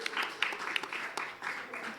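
Audience applause at a power grid conference, a soft steady patter of many hands clapping at a distance, continuing through the short stretch without a break.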